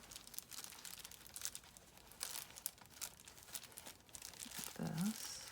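A bubble mailer is folded and tucked while making a layered junk journal fabric cover, giving faint, close crinkling and crumpling rustles in scattered bursts with brief pauses between, without speech.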